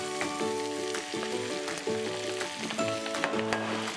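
Sausages frying in hot butter in a pan, a loud steady sizzle and crackle close by, with occasional sharp pops and clicks throughout and no voices.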